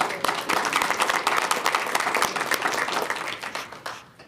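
An audience at a school district board meeting claps steadily for several seconds, a moderate, even patter of many hands that fades out at the end.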